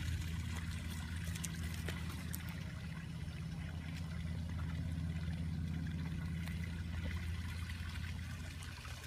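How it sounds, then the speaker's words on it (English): A small garden waterfall spills into a pond with a continuous, even trickling rush, close and steady throughout, with no talking. "To a little waterfall that comes down here and flows over to the pond."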